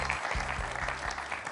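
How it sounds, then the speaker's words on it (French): A French TV quiz-show studio audience claps steadily, dense applause filling the whole moment at a moderate distance with no voices over it. "On peut l'applaudir, Pascal."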